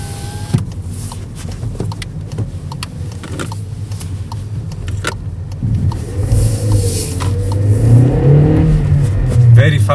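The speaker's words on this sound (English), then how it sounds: "let's hear the engine." The 1.2 TSI engine of a 2014 Volkswagen Polo Fresh revs up from inside the cabin, its hum growing steadily louder toward the end, after clicks and a power window moving.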